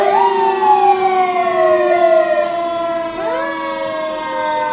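A loud fire engine siren wails close by at a Christmas parade in Wells, Maine, its pitch sliding up and down in steady sweeps, with no other sounds standing out.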